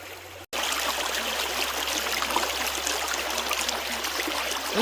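Water pours steadily through a Pirate sluice box as material is washed down it, giving a continuous close rushing trickle with no talking.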